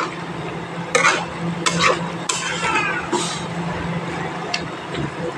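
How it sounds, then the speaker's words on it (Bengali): A metal spatula stirs and scrapes a mixed vegetable curry of tomato and other vegetables in a pan, giving irregular close scraping and clattering strokes over a soft steady sizzle. "আর এইভাবে খুন্তি দিয়ে নাড়াচাড়া"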